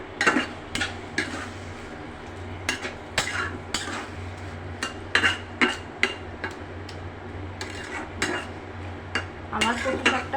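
Spinach stirred in a pan as a spatula clacks and scrapes against the metal in an irregular string of sharp knocks, close and fairly loud over a low background hum.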